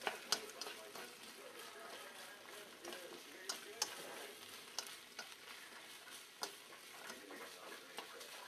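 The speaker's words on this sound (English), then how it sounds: "I'm going to add that into the wok now and get that all nice and cooking" Carrots, ginger, green onions and onions fry in a wok, a soft sizzle under repeated light ticks and clacks of a utensil stirring against the pan.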